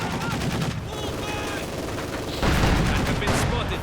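Dense battlefield gunfire from Company of Heroes 2, a 1v1 match, with continuous rapid small-arms and machine-gun bursts throughout, growing louder and heavier near the end, under a commentator's voice.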